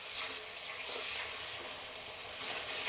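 Chopped tomatoes and spice paste fry in hot oil, a steady close sizzle and hiss with faint stirring, and no voices over it.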